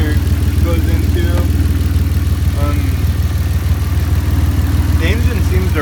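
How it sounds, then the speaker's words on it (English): A 2001 Audi Avant Quattro engine idles steadily and loudly up close, an even low rumble throughout with some faint background sounds. "The engine seems to run really good to me"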